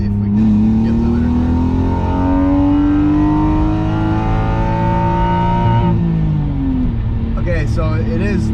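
A BMW E36 328is engine revs hard, its pitch climbing steadily to the rev limiter, holding briefly, then dropping away. The revving is loud and close, with a short clatter after it falls.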